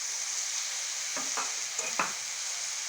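Green chillies stirred in a frying pan for a bitter gourd and mutton curry, with a steady sizzle of hot oil and a few scraping strokes of the spoon standing out near the end, close and without talk.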